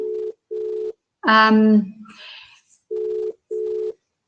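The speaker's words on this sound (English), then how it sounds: "Dr. Reddy, I'm calling you." An outgoing phone call rings out in a repeating pattern of short paired tones, clean and steady, broken in the middle by a brief burst of voice-like sound before the ringback resumes.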